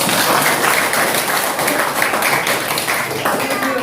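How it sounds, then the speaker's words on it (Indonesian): Students applauding a classmate group during a seventh-grade geometry lesson, close, dense clapping filling the room, with voices mixed in underneath. "Tepuk tangan dulu buat kelompok 4 tadi."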